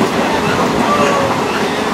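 An Indian local train on the Murshidabad to Kolkata run rumbles steadily from inside the carriage, a continuous loud roar of wheels and motion with faint background voices mixed in.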